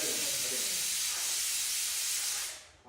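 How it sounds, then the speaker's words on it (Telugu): A pressure cooker releases steam in a loud, continuous close hiss that holds steady for about three seconds before cutting off, with no talking. "కుక్కర్ అయిపోయింది కదా, దీన్ని పక్కన పెట్టుకుందాం."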